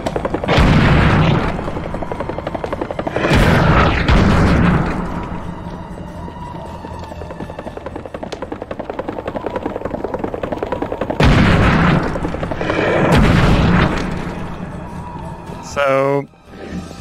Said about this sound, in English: Oh, that was the rocket launcher!